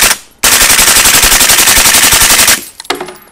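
Full-auto bursts of suppressed big-bore rifle fire through a 375 Raptor AB suppressor at Black Collar Arms, a loud, fast, steady rattle of shots lasting about two seconds, then a brief silence and a few faint trailing clatters.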